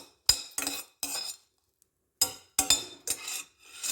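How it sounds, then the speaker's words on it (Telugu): A spoon scraping and clinking in a pan of green chillies being lightly fried, heard as several short, sharp strokes in two bursts with a quiet gap between them. "ఇలాగే ఈ పచ్చిమిర్చిని లైట్గా ఫ్రై చేస్తూ"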